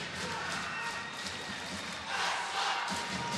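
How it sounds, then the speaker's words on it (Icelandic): Northern Icelandic ice hockey fans, Mjölnir supporters among them, chant and cheer from the stands at a hockey game, a dense roar of crowd noise that swells louder in the second half, with a commentator talking over it. "í norðlensku áhorfendunum. Mjölnismenn og fleiri er að peppa sína menn upp hérna."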